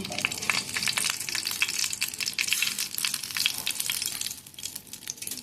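Coriander seeds fry in masala at medium heat for a Mangalore-style egg curry, giving a close, busy crackling sizzle with intermittent stirring clicks that eases slightly toward the end, no voices heard.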